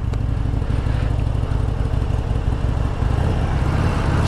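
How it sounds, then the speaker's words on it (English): A Harley-Davidson Sportster 1200 Custom motorcycle engine runs nearby with a steady, smooth low rumble that holds at an even level throughout, with no talking. "it's a faster revving engine. It doesn't pop, pop, pop, it's more like a purr"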